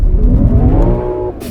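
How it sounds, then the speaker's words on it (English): A 2022 Lexus IS 500 F-Sport Performance Launch Edition with its 5-liter V8 launches hard from a stop, a loud close engine roar rising through the revs as the rear tires spin, then a brief lift at the end. "Yeah, still lights up those rear tires."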